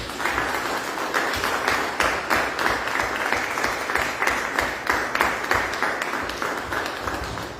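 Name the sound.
applause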